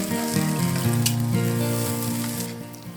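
Corned beef and egg fry together in a single pan with a continuous crackling sizzle, over a low tonal hum.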